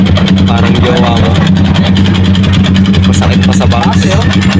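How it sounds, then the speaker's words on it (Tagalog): A Yamaha Sniper 150 motorcycle engine runs steadily and loudly with a constant low hum throughout, while a person talks over it. "Napakaingay ng makina niya, maririnig nyo."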